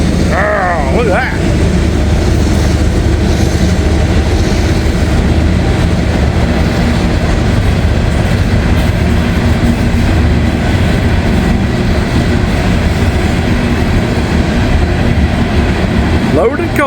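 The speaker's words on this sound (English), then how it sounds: "Loaded coal train." Heavy CSX coal train, fully loaded, passing a crossing in snow, with a steady close rumble and rhythmic clatter of wagons throughout, and someone speaking over the noise.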